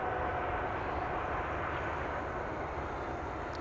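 An airplane arriving at Amsterdam Schiphol Airport gives a steady, broad engine roar that fades gradually over a few seconds.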